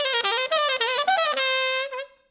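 An electric guitar runs a fast ascending pentatonic sextuplet pattern, clean and close, with rapid evenly spaced notes climbing in pitch before a final held note rings out and fades.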